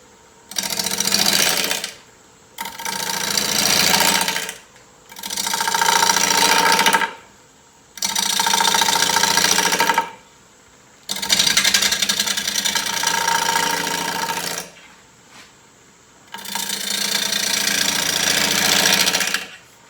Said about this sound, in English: We're going at 860 RPM now. I'm going to use a bowl gouge here.